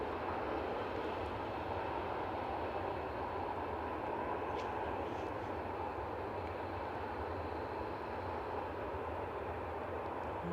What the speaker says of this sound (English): there's an EasyJet making its way out